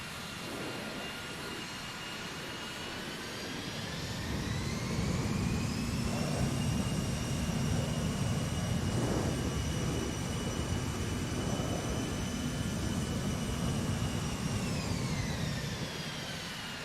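Bombardier CRJ jet engines idling on the ground, heard from outside the aircraft in a flight simulator soundpack: a steady whine with high tones that rise and later fall over a low rumble, continuous and fairly loud, with no talking.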